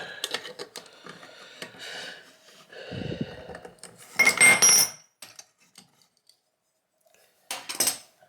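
Channel lock pliers loosening a faucet nut during an RV faucet cartridge replacement: scattered metallic clinks and scraping, a dull thump, then a louder burst of grinding metal rubbing, a pause and a final short scrape.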